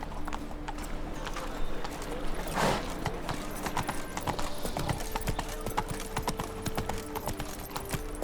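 A horse gallops in The Witcher 3, its hooves pounding out a steady, close clip-clop rhythm over a continuous game ambience.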